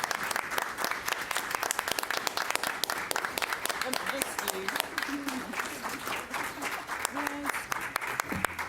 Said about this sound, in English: we'll give you a wonderful round of applause.